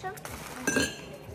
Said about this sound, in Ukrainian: Так, це у нас ось така кастрюлька.